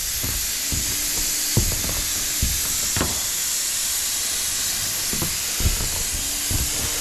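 Paint spray gun recoating an old Colorbond metal roof outdoors, a constant loud hiss broken by soft repeated knocks and clicks at irregular intervals.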